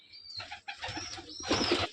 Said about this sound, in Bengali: তো ভাই এই যে আপনার জাগ কবুতরগুলো দেখি